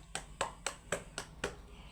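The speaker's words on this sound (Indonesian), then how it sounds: "Terima kasih buat tepuk tangannya." At a public speaking practice session, six sharp, evenly spaced hand claps ring out about a quarter second apart, quiet and close, with no talking.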